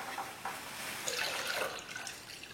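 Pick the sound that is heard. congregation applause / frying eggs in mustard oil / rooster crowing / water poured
water poured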